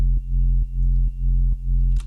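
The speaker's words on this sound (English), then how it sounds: "It just gives that kind of like ducking sound that we want." A deep kick drum pumped by a Kickstart sidechain compressor, five heavy thumps at a steady pace with the sustained low tone ducking sharply on each hit and swelling back between them.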